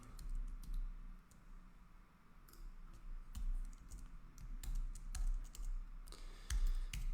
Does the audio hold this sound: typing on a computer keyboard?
yes